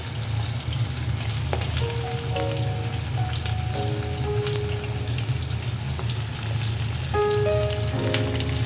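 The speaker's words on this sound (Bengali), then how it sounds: "এবারে আমি ভাজবো বিনস। একদম দেখুন পুরো ডিপ ফ্রাই হবে।" Beans for a mixed vegetable pickle deep fry in hot oil, giving a dense, even crackling sizzle that stays loud and close throughout.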